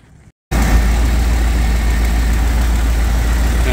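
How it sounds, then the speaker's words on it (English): A Ford 7.5L 460 V8 fitted with an S&B cold air intake cold-starts after a short silence, then settles into a loud, steady, deep rumbling idle close up. "Now this is cold start"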